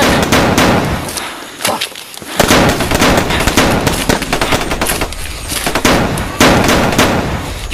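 Rapid bursts of gunfire or firecrackers crackle loudly and almost continuously, with repeated sharp volleys close by and only a brief lull near the start.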